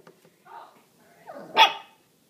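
A small Shorkie puppy gives a couple of soft, low woofs, then one sharp, louder yappy bark near the end; close by, no speech.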